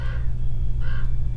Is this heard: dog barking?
no